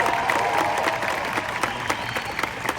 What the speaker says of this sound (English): Please, massive round of applause, not only for them, but this entire crew at Hollywood Bowl.